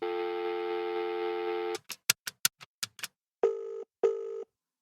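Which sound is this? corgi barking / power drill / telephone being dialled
telephone being dialled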